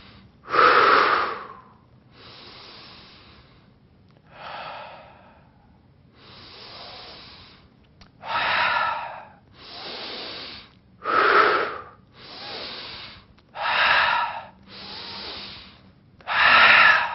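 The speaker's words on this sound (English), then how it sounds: "We need you to take deep breaths in." Deep breaths drawn in and let out slowly, a steady series of long airy inhales and exhales close to the listener, with short pauses between each breath and no talking.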